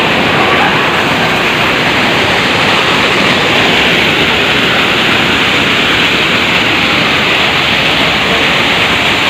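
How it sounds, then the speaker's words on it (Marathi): Dudhdhara waterfall on the Narmada river at Amarkantak, a loud, steady roar of rushing water that stays dense and unbroken throughout, with no voices. "इथेही मैया वेगाने वाहते, त्यामुळे आपल्याला पाण्याचा आवाज येतो"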